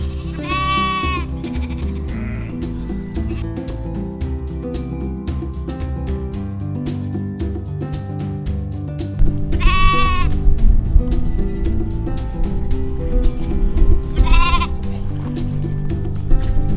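Sheep bleat loudly in three distinct calls spread over the clip, set against a steady outdoor background in the Cotswolds countryside of the UK.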